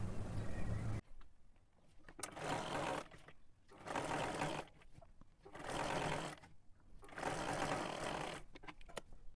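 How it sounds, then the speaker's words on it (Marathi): A sewing machine stitches the lining hem of a kurti in several sustained runs separated by short pauses, close and steady, with no voices over it. "इथे आपण पूर्ण शिलाई मारून घेतली।"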